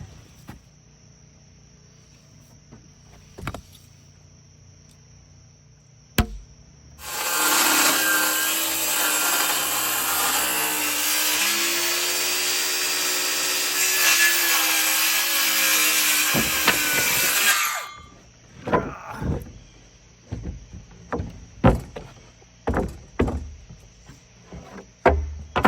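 Chainsaw-milled lumber trimmed with a saw, a loud, continuous buzzing cut lasting about ten seconds, with softer knocks and handling sounds before and after.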